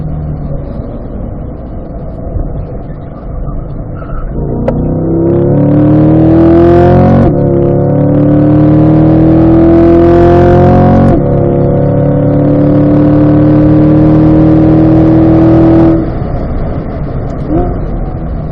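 A car accelerates hard on a racetrack at a performance driving school, its engine rising in pitch through several gear changes, loud and close in the cabin, then easing off toward the end.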